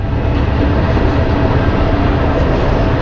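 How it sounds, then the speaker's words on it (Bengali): A train approaches a railway level crossing with a loud, close, continuous rumble and roar of wheels and cars on the rails, steady throughout. "এই ট্রেন আসতেছে খুবই নয়েজ আসবে"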